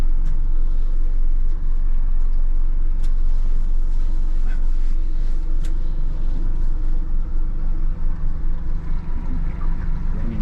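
A 21-foot Hewescraft Searunner aluminum boat with a Yamaha F200 outboard idles and turns in circles, a loud steady low engine rumble with slight surging close by.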